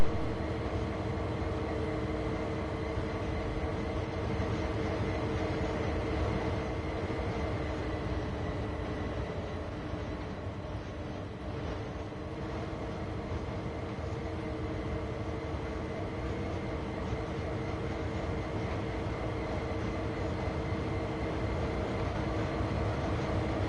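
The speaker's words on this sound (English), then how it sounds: "Again, just a locomotive" Steady drone of a locomotive running in Train Sim World 2, a continuous rumbling engine hum with layered tones that holds evenly throughout, close and moderately loud with no talk.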